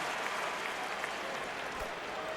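Jubilant basketball arena crowd at a Celtics–Knicks game giving a standing ovation, a steady roar of applause and cheering that fills the space without a break.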